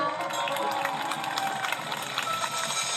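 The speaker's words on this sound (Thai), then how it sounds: "เสียงปรบมือให้ย่ามีหน่อยได้ไหมจ๊ะ" A crowd gives sustained applause for a young performer's grandmother, a dense, even wash of many hands clapping with voices mixed in underneath.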